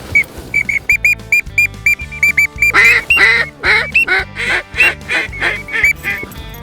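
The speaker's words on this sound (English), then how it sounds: "We just walked into a big old group of teal." A flock of teal ducks quacks and chatters loudly and close by, with rapid overlapping calls and a steady low rumble underneath.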